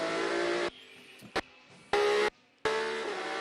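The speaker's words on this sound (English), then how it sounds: "In GTs, it'll be a Porsche and a Lamborghini that comes through" GT race cars, a Porsche and a Lamborghini, pass at Sebring during the 12 Hours endurance race, with loud engine roars in separate bursts cut by abrupt silences.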